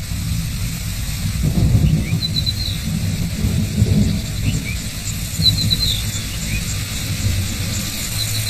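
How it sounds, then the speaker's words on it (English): Heavy driving rain on the Mara plains during a wildebeest migration, a dense steady hiss with low rumbling thunder rolling underneath and a few faint high squeaks. "The mother and calf turn their back on the driving rain."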